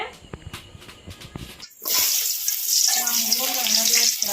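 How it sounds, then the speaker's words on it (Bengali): Luchi, puffed flatbread, frying in hot oil over a stove: a brief stretch of voices and clatter gives way to a steady, bright, hissing sizzle that holds close and loud to the end. "আমি এখানে লুচিগুলো ভাজবো এই দেখো কত সুন্দর লুচিটা ফুলেছে"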